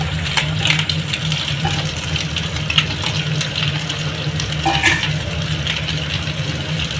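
Beans and cabbage being stir-fried for chicken fried rice in a pan produce a low continuous frying hiss with occasional light clinks and scrapes of a utensil against metal.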